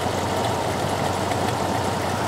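A car engine idles steadily at fast idle, set on the carburetor choke cam, a continuous even rumble with a dense hum, close and constant throughout with no talking.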